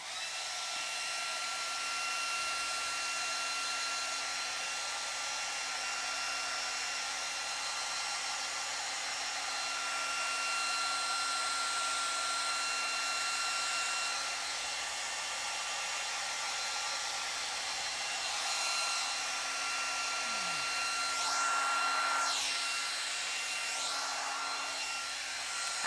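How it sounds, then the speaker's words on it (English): A hair dryer blows steadily and loudly with a constant high whine, running close and uninterrupted, its pitch shifting slightly near the end. "hair dryer is coming out. It's making noise."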